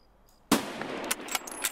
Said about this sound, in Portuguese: Dei o tiro pra chamar a atenção